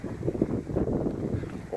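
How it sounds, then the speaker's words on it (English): Gusty wind blows outdoors at a property, buffeting the microphone in an uneven, rushing roar that rises and falls throughout. "It's windy out here"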